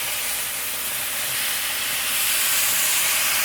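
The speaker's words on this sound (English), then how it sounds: "I'm going to deglaze that pan with a little marsala sauce" A pan deglazed with marsala while cooking soft shell crabs, giving a loud, steady hissing sizzle of steam and spray that carries on throughout without any talking.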